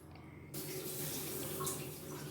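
Water pours suddenly and steadily into a pot of garlic-tomato rasam, a close, continuous splashing rush that starts abruptly and holds for a couple of seconds.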